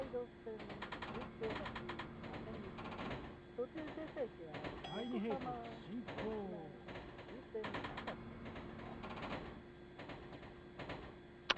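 A model train runs in the PS1 N-Gauge Unten Kibun Game, with rhythmic rail clatter and mechanical rumble continuing under near-constant talking throughout.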